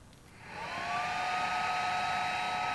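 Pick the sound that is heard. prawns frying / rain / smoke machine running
smoke machine running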